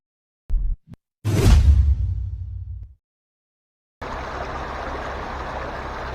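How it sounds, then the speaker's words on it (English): Water in a gold-bearing creek rushes steadily as a broadband wash, following a few brief swishing bursts and a short silent gap. "what you're seeing behind me is my gold-bearing creek"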